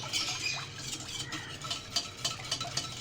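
A spoon stirs egg into milk in a pan for custard, scraping and clinking in a steady, close, fairly quiet rhythm with no talking.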